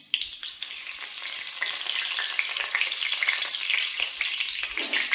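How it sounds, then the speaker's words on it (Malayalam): Small sardines frying in sesame oil for pickle, a dense bright crackling sizzle that builds after the fish drop in, loud and close with a few soft knocks, no speech. "അപ്പം നമുക്കിത് കുറേശ്ശെ ഇട്ട് കൊടുത്ത് കുത്തി ഇളക്കാതെ ഒരു സൈഡ് മൂത്ത് കഴിഞ്ഞ് അടുത്ത സൈഡ് നമുക്ക് അങ്ങോട്ട് തിരിച്ചിട്ട് കൊടുക്കാം"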